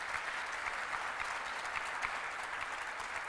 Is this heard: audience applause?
yes